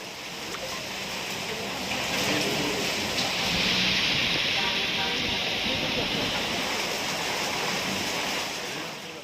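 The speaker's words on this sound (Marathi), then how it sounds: "विजांच्या कडकडाटासह मुसळधार पावसाने कोल्हापूरला झोडपून काढलं।" Heavy thunderstorm rain pours down over Kolhapur as a dense, continuous roaring hiss that stays loud and steady throughout, with no distinct thunderclap standing out.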